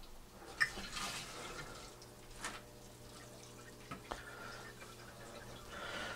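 Water trickles weakly through a DIY RDWC hydroponic bucket system, a faint and quiet flow broken by occasional soft drips and splashes against a low steady background hum.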